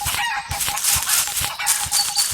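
A chicken in an egg hunt video game clucks in loud, close, repeated bursts, with no voices over it.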